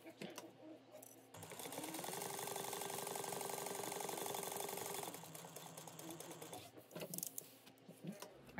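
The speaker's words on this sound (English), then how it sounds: "We're going to sew across the bottom and then back up the top, and we're going to do that all at 1/8 of an inch." A sewing machine stitches a fabric slip pocket with a 1/8-inch seam, running in a steady, continuous whir for several seconds before stopping, with softer handling noises around it.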